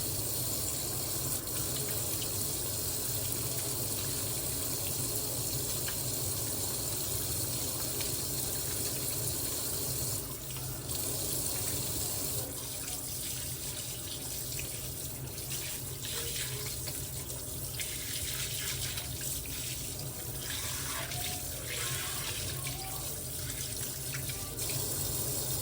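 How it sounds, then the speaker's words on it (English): Tap water runs steadily into a sink during handwashing, a continuous broadband splashing hiss lasting throughout with small shifts in flow as hands move under the stream, no voices. "I'm gonna wash my hands"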